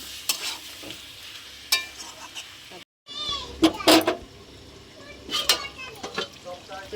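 Elephant foot yam and potato are stir-fried in a pan, with intermittent scraping stirs over a low sizzle, a brief silent gap midway and faint background voices.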